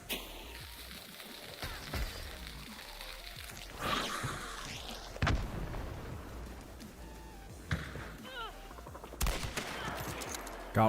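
Shotgun blasts in the video game Dune: Awakening, a few scattered sharp booms spread unevenly among game sounds and clatter, punchy and close, with no voices.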